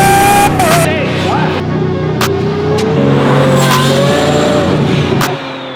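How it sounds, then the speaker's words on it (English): A loud twin-turbo Lamborghini Aventador SVJ engine revs and climbs in pitch, roaring close by with sharp bursts and a tire squeal, before dropping away. "You'll see the engine's loud."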